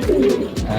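A young off-color pigeon coos in short, low rounded phrases close by, a soft throaty call repeated twice over under a second of quiet background.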